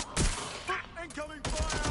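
Gunfire in the Watch Dogs: Legion video game, sharp bursts of shots at the start and again near the end with radio-style voice chatter between them.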